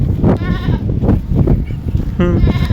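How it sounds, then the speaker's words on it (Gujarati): Goat bleating in a village setting, several loud, close wavering bleats spaced across a few seconds with rural background noise between them. "આપણી બકરી બોલશે."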